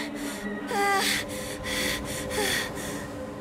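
Gasping and ragged breathing from a character in a video game, with sharp intakes and a short vocal strain over a steady game background.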